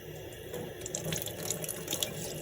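Tap water runs steadily into a sink while raw shrimp are rinsed for aguachiles, with a continuous splashing flow and small clinks throughout, no talking.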